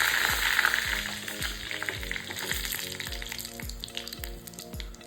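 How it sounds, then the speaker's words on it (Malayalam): Two red chillies fry in hot coconut oil with popped mustard seeds, tempering a pickled mango curry: a loud, continuous close sizzle broken by regular soft knocks throughout. "ഇതിലേക്ക് 2 മുളക് ചുവന്ന മുളക് ചേർക്കുന്നുണ്ട്"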